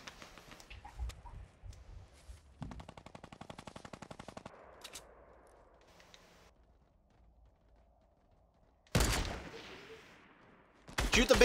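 Rapid automatic gunfire from the video game Fortnite, a dense rattling burst of shots followed by louder explosive blasts, with background game sounds between them.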